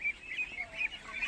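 Month-old ducks on a farm being herded into their house, a brief run of faint, repeated nasal calls.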